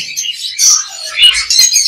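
Several small caged birds chirp and tweet in quick, overlapping high calls at a bird market in Mirpur, close by and lively, with no talking.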